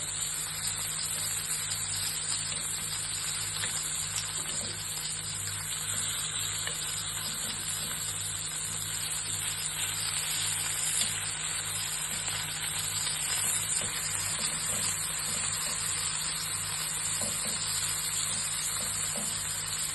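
Prawns fry in a pan, giving a steady, continuous sizzle with a low constant hum underneath, even and unbroken throughout with no talking.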